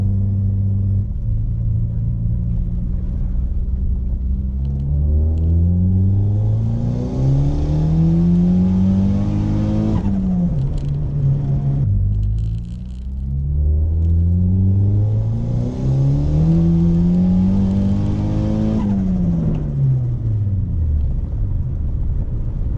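A turbocharged Honda Accord revs hard through rising gears in two long, loud pulls, dipping briefly between them, with no talking.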